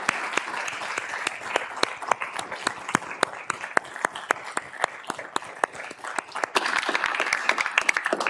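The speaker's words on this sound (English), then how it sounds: "I want to give just a really hearty round of applause for your" Lecture attendees give a round of applause, scattered individual claps at first building into fuller, denser clapping toward the end, moderately distant in a hall.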